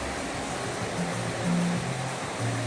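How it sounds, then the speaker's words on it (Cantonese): Steady rushing, splashing water fills the clip, a continuous broad wash of spray from a fountain and artificial waterfall in a Hong Kong shopping mall, with no voices. "啲噴水池啲水聲嚟"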